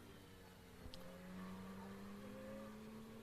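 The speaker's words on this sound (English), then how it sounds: "here you can see a very lonely Porsche on the track" A Porsche race car rolls onto the starting grid at a circuit. Its engine gives a steady, moderately distant drone with a tonal hum that swells slightly partway through, and no one speaks.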